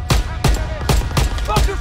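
Rapid bursts of gunfire from the WW2 shooter Call of Duty WW2, about five loud evenly spaced volleys in under two seconds, each sharp crack trailing into a short rumble.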